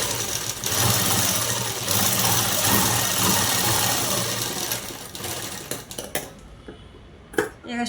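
Sewing machine top-stitching a diamond-shaped blouse neckline, a fast steady mechanical whirr running for several seconds, then slowing into short bursts and clicks as the stitching stops, with no talk.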